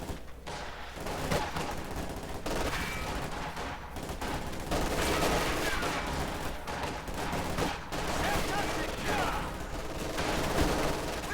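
Battle gunfire in the strategy game Company of Heroes 2, a continuous dense fusillade of rifle and machine-gun fire with distant artillery thumps, steady and moderately loud, with faint voices mixed underneath.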